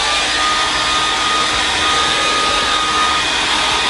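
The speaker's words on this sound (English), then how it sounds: "I brought out the hair dryer to help this dry faster." A hair dryer blows steadily on a hydro-dipped denim jacket, a constant close, loud broadband whoosh that holds evenly for the whole stretch with no pauses.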